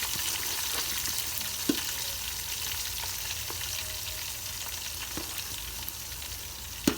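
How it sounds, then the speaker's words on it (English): Chopped onion sizzles steadily in hot oil in a pan while cooking vegetarian fish curry, a continuous crackling hiss with a few sharp clinks of a spatula against the pan. "Add the onion. Let the onion also be a bit brown."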